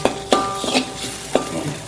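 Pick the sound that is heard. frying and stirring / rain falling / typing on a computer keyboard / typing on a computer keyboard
frying and stirring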